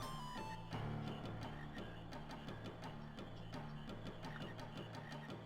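Frogs croaking in Final Fantasy 9 during the frog-catching minigame, a steady run of repeated rhythmic croaks layered over looping game music, with no talk.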